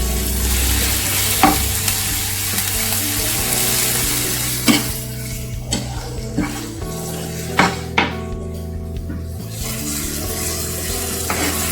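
Kottu Mee noodles with chili and salt being stirred and fried in a pan, a steady sizzle running underneath scattered sharp scrapes and knocks of the utensil against the pan, with no talking.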